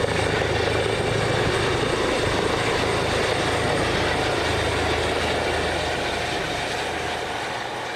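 A helicopter drones loudly and steadily, a dense rumbling roar with rotor throb, close overhead and fading slightly toward the end.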